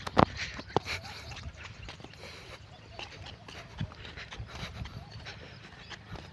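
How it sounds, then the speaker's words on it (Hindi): On a farm, a dog pants close by in quick, steady breaths against an open outdoor background. A couple of sharp knocks come early on, and faint voices murmur at times. "भाई कुत्ता आ गया साला"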